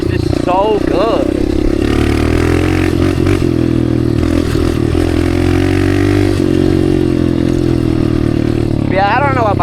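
A dirt bike's engine and exhaust idle with a rough, steady low rumble and brief revving swells, loud and close, with scraping and clatter mixed in.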